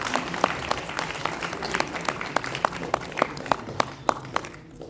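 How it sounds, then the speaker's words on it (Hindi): Audience applause at a retirement ceremony at IVRI Bareilly, a steady clatter of many hands with a few sharper claps standing out, fading away toward the end. "कृपया जोरदार तालियों से अभिनंदन करेंगे अशोक कुमार जी का"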